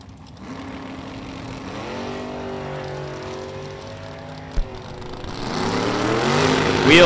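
Drag race launch of a step side pickup truck and a Vega wagon: engines idle and climb in pitch, a sharp bang, then a loud rising roar as both cars pull away, with faint announcer talk under it.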